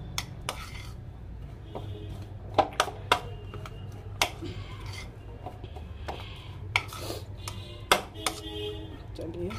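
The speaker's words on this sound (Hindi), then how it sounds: "इसको करेंगे अच्छे से मिक्स।" A spoon stirs and mixes food in a bowl, giving soft scraping and rubbing with occasional light taps against the bowl, close by, while someone talks at times.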